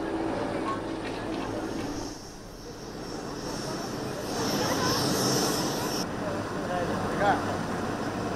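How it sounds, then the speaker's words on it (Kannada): Sukhoi and Surya Kiran military jets perform at the Aero India air show at Yelahanka air base in Bengaluru, and their engine roar forms a broad, steady rumble that swells midway while a voice talks over it. "ಸುಖೋಯ್, ಸೂರ್ಯಕಿರಣ್ ಹೆಲಿಕಾಪ್ಟರ್ಗಳ ತಂಡ ಪ್ರದರ್ಶನ ನೀಡ್ತಾ ಇದೆ."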